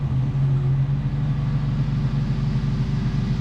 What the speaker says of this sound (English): And of course we use the forklift to nudge it over.